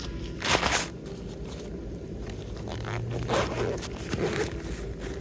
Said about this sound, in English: I don't know why I didn't zip that up